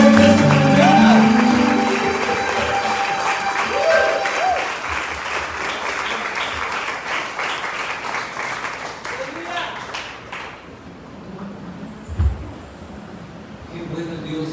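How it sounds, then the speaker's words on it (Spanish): A church congregation at a Sunday morning service breaks into sustained applause, loud and full at first with some voices and music underneath, then gradually thinning out. "¿Alguien le puede brindar un aplauso al Señor en esta mañana?"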